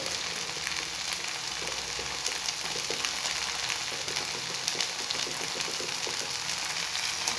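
Potato cutlet mixture with spices sizzling and being stirred in a pan, a steady dense crackle of frying running throughout with faint scraping.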